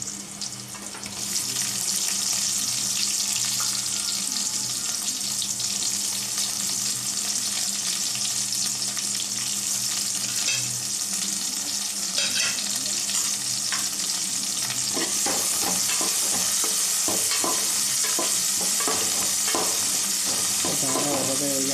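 Onions fry in a hot pan for bendakaya pulusu, a steady loud sizzle running throughout with stirring scrapes and clatter growing busier in the second half; no voices.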